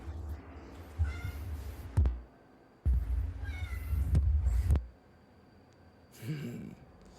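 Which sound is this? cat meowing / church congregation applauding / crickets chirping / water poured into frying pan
cat meowing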